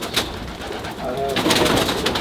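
A racing pigeon coos in a breeding loft, soft low rolling calls under ongoing background noise and light movement, close to the listener.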